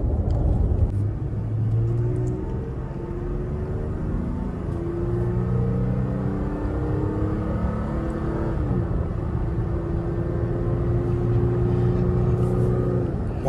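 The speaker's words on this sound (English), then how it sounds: "it's even climbing the hill without having to give it gas" A modified 2023 Toyota Tacoma pickup climbing a small hill without added throttle, with a steady engine rumble, a shifting mechanical hum and drivetrain whir heard from inside the cab throughout.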